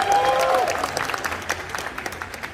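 An audience applauds at a PRS guitar clinic in a Jakarta guitar store, a dense patter of clapping that slowly thins out over a couple of seconds.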